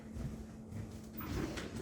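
Wooden drawer pulled open during a search for a hammer, giving a short sliding rumble with light knocks and rattles of the contents, close and moderately loud.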